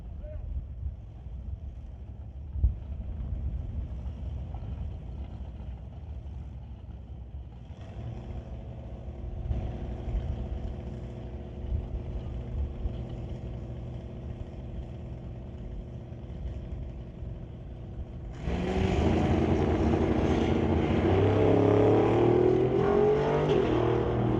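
Drag race cars, a Buick-powered car and a Chevy 2, heard from a distance as a steady engine drone, then a much louder roaring burst of engine noise near the end as the cars run down the track.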